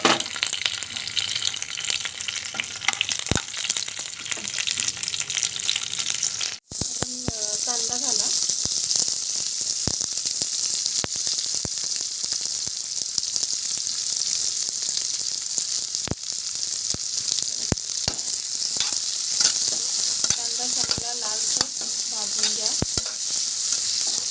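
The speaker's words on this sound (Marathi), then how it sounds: "कढीपत्ता घालायचा आणि एक चमची जिरं घालायचं" Curry leaves and cumin seeds dropped into hot oil for a veg kurma, a loud burst of crackling sizzle that settles into a steady fry with frequent stirring clicks and a spoon scraping the pan.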